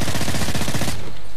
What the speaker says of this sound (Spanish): Yo disparo contra las bestias.